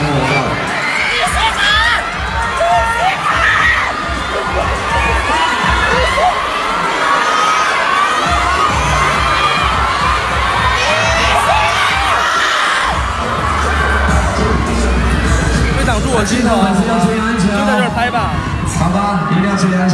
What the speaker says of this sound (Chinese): 再来一遍掌声，给到林总，也给到我们的Sky天空少年